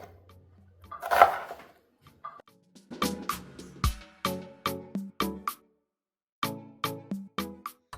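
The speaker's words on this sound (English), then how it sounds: "next we'll cut the onion up. Try to do it as granular as you can" A knife chops an onion finely on a cutting board: sharp, close knocks in quick rhythmic bursts with a brief pause between runs.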